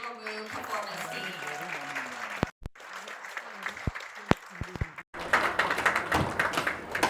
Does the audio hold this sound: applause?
yes